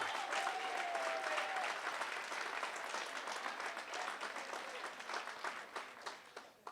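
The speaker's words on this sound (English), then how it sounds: "Please give her a round of applause." An audience at a university sports gala awards ceremony applauds steadily for several seconds, a dense, even wash of clapping with a faint voice early on, tapering slightly at the end.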